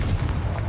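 A Confringo spell explosion in the Hogwarts Legacy video game, one short, loud, booming blast with a rough rumbling body that fills the whole brief moment.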